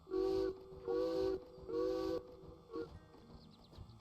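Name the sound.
train whistle blown in video game Derail Valley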